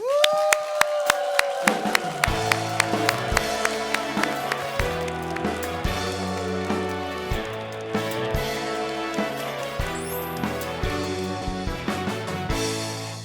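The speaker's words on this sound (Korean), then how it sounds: "빨리 큰 박수로 맞이해주시면 감사하겠습니다" Studio audience at a Christian TV broadcast breaks into steady, loud applause welcoming a guest, with dense clapping sustained throughout and accompanying music underneath.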